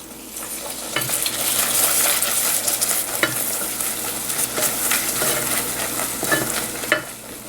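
Caramel with cream being stirred on the heat with a long wooden spoon, a steady bubbling sizzle with scraping strokes and occasional soft knocks against the pot, fairly close and continuous.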